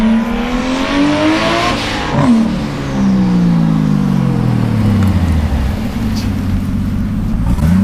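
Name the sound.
Nissan Skyline R34 GT-R V-Spec II launching with boost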